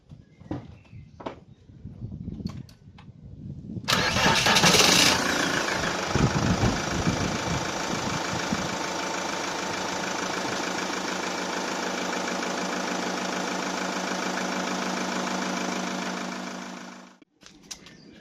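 A car with an alternator fault cranks briefly, catches and settles into a steady, loud idle that runs for over ten seconds before cutting off near the end, with no talking.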